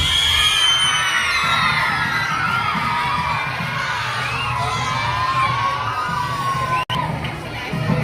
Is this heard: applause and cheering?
yes